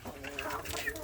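Free-range Indonesian native chickens (ayam kampung) kept on a small farm, giving soft, short clucks in a quick run, close by and fairly quiet.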